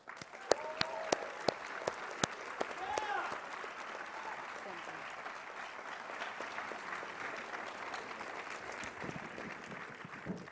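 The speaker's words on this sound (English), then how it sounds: "Please help me in welcoming your keynote speaker, Dr. Ralph Izzo." Audience applause welcoming a keynote speaker at a university engineering class day ceremony, with a few sharp claps at the start building into steady, fairly loud clapping across a large hall.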